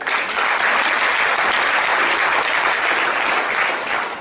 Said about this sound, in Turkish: Gazi'yi bir alkışlar mısınız?